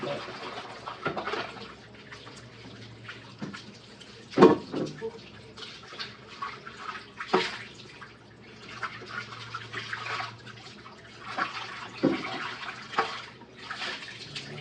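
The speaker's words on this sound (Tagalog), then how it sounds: "Hugasan ko na ito." Water running and splashing while something is washed, with intermittent bursts and clatters over a steady flow, close by, and a few brief sounds between.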